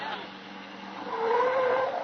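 A car pulls up close with tires screeching, the squeal rising and strengthening over the second half under faint background voices.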